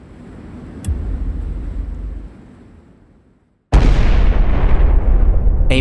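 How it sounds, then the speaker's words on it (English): A deep, heavy explosion rips through the reactor building of Unit 1 at a Japanese nuclear plant, a sudden loud blast and rumble after a quieter lead-in of rising and fading booms. "A massive explosion tears through the air. The blast is heard for miles."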